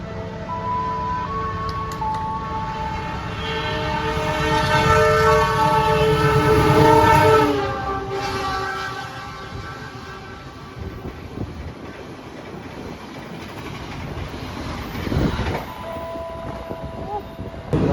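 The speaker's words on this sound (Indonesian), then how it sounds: "Kereta api Harina melintas langsung di stasiun Tanjung." The Harina train passes straight through Tanjung station in Indonesia, rumbling with its horn sounding long, layered blasts, the roar of the wagons swelling then fading, and a second horn note near the end.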